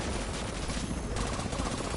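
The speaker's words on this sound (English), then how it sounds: "So they shoot grenades" Dense, continuous gunfire and explosive bursts from enemies firing grenades in The Division 2 combat, a loud unbroken roar of shots with no pauses.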